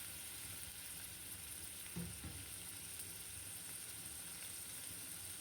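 Onion frying in hot oil in a pot on a stove, a steady, bright sizzle throughout, with a brief soft stir or clatter near the middle.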